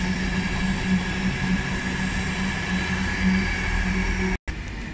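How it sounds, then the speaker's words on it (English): An LNER passenger train from London King's Cross to Leeds rumbles past close by with a steady, droning roar and low mechanical hum, continuous for several seconds before a brief cut. "Train right here, passing now is the LNER service from London's King's Cross to Leeds"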